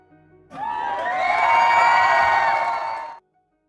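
Large crowd mocking a man carrying a cross through the streets, shouting and jeering together as one dense, loud roar that swells and holds for nearly three seconds, then cuts off abruptly.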